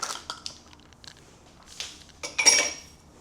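Eggs cracked into a small bowl while making cookies: a few light taps and clinks of shell on a bowl's rim, then a sharper crack and wet slip near the end, close and fairly soft.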